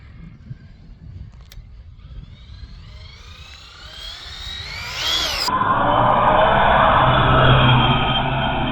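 A Castle Creations-powered Arrma Mojave 6S RC car speeding up, its electric motor whine climbing steeply in pitch, then a loud broad roar as it takes off, no talking.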